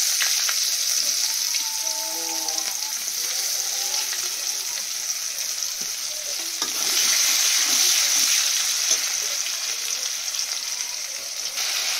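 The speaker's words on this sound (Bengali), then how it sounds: "এবারে পেঁয়াজ দেব।" Onions and cumin sizzle steadily in hot oil in a wok after fish has been fried, a constant bright frying hiss with a few faint clinks and stirring noises, no voices.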